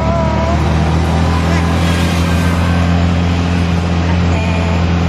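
Steady engine drone of a motor tricycle carrying passengers toward a resort in Puerto Galera, a constant low rumble with road noise throughout, and voices talking over it.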